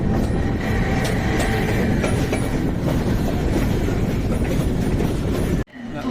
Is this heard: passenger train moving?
yes